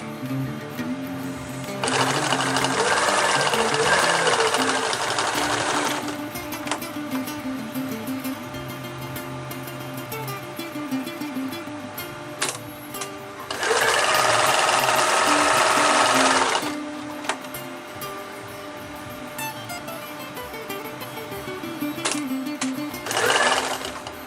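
A sewing machine runs in three bursts, loud and close, stitching an elastic loop back and forth onto a roll-up backpack, with quiet pauses and small handling clicks between runs.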